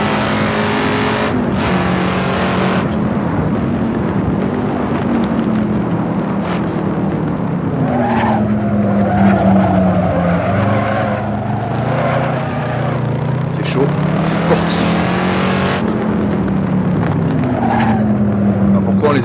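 A Shelby Cobra 427 with a big V8 and no power steering roars around a winding track, its engine note climbing and falling loudly through gear changes, with talk over it throughout.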